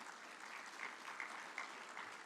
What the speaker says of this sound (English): We give a round of applause to GMI.